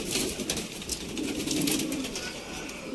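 Ali wale pigeons, a Rampuri breed kept in Sialkot, coo softly and steadily nearby amid faint rustling, with no voices.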